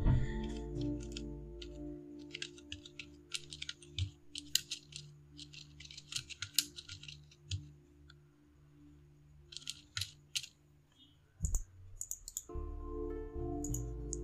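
Someone types on a computer keyboard in quick, close bursts of sharp key clicks, pausing briefly between runs, with a short low thump partway through and no talking.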